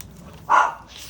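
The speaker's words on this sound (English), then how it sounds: "you're gonna hear my dogs bark" A single short dog bark sounds once, moderately loud, against a quiet background.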